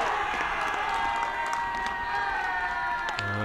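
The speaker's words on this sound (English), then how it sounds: "A big cheer from the Pioneers dugout." Cheering from the Pioneers dugout after a strikeout at a college baseball game between Eastern Florida State College and Indian River State College, a sustained mix of shouts and crowd noise from a distance, steady throughout.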